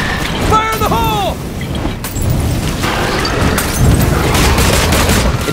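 A grenade blast and gunfire in the zombie-survival video game State of Decay 2 come as a cluster of loud shots and booms. A brief tonal cry rings out early, and a mechanical clatter continues afterward.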